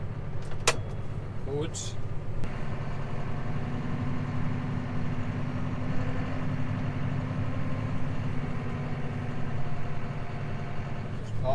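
A farm tractor engine runs at a steady, close idle through a winter farm chore, a constant low rumble with a couple of brief clunks early on. Someone speaks a word over it.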